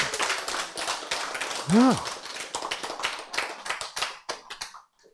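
Audience members at a health lecture clap hands in quick, uneven bursts, with a short vocal exclamation rising partway through and softer scattered claps trailing off.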